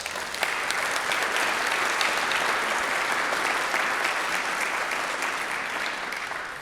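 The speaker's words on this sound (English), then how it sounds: "I think he already deserves warm applause." A conference lecture audience in Cambridge breaks into sustained applause, a dense, even clapping that holds steady for several seconds before easing slightly at the end.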